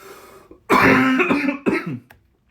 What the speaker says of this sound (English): I'm a little sick, so I have a little bit of trouble breathing and I'm coughing.